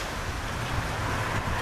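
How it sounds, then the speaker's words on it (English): Steady wind gusting outdoors at a campsite where a camp stove is being set up, a continuous broadband rush with low rumbling buffets, alone and fairly loud throughout. "man, is it windy out today."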